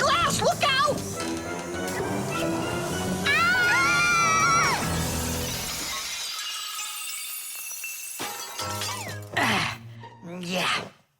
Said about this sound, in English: And who's going to clean up all this broken glass?